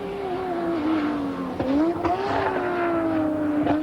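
A touring car at Mount Panorama, Bathurst, in the 1988 Tooheys top 10 shootout, driven by George Fury, slides sideways with a sustained engine howl that rises and dips through gear changes, tyres squealing briefly mid-pass, moderately loud and close.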